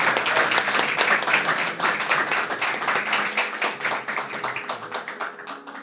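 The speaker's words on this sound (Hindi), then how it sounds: "आपकी मोहब्बत भरी तालियां और शोर सुनाई दिया" Loud, dense applause from a poetry-reading audience, steady rapid clapping that thins slightly toward the end, with no talk over it.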